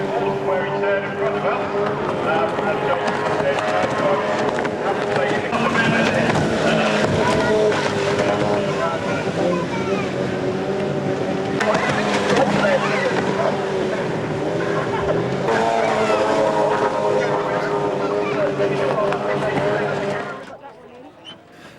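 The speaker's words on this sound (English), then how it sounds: "These are Osy Racing hydroplanes, driven by amazingly small 400cc 33 horsepower engines" Racing hydroplane powerboats driven by small 400cc, 33 horsepower engines roar in a loud, continuous, buzzing drone that holds steady for about twenty seconds before cutting off.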